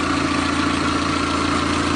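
A car engine fitted with a carburetor and a vaporization system idles in a steady, low, throbbing drone. Its fuel injection, computerized ignition and coil packs have been removed.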